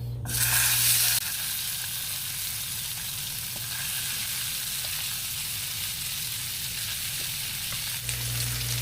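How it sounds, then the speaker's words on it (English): Leftover spicy beef warming in a pan over medium heat, sizzling in a steady, close crackle that starts with a louder burst and then settles into an even hiss with no talking. "I'm just gonna warm up my beef"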